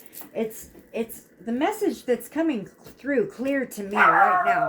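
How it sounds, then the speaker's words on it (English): A pet dog barks and yips repeatedly nearby in short, sharp bursts, overlapping someone talking calmly, with a louder cluster of barks at the end. "Sorry about my dog."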